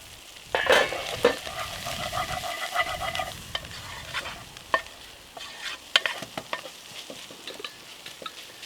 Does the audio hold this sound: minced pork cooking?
yes